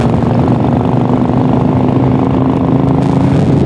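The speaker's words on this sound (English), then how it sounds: "On a motorcycle." A Honda Shadow motorcycle engine drones steadily and loudly throughout on a snowy winter street in Detroit, Michigan, with a constant low hum and no voices.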